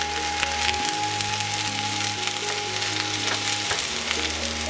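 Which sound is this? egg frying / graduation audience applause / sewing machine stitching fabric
egg frying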